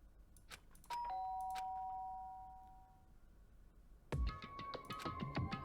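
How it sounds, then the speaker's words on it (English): A doorbell rings in the video game Danganronpa: a clear two-tone chime near the start, then a second, louder burst of bright ringing tones a few seconds later against a quiet background. "did I hear the doorbell?"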